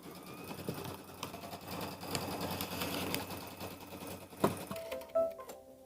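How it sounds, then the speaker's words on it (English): A sewing machine stitches a placement line on a small quilt, a steady, close mechanical whirring of the needle running continuously, with a few small clicks near the end. "I'll go ahead and put my foot down and begin stitching that out"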